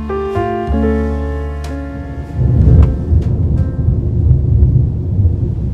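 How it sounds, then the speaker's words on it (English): Thunder rolls in as a deep, loud rumble that swells and lingers for several seconds after a few brief tonal sounds at the start. "That thunder."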